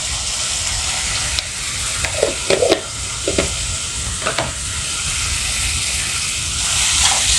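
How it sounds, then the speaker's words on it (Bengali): Spice paste with chili powder fries for buffalo meat, hissing steadily in the pan, while a few scraping stirs cut in at the middle. The sizzle swells slightly toward the end. "এখন মশলাটা একটু ভালো করে কষিয়ে দিচ্ছি, কাঁচা গন্ধটা চলে যাওয়া পর্যন্ত"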